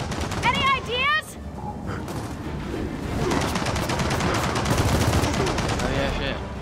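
Sustained turret and automatic gunfire rattles through a Gears of War 4 battle with dense bursts of shots and impacts, while players talk excitedly over the combat.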